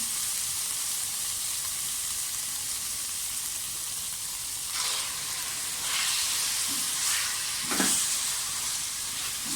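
Chicken and vegetables fry in a pan with a steady, quiet sizzle, and a few brief louder hisses and stirring sounds come near the end.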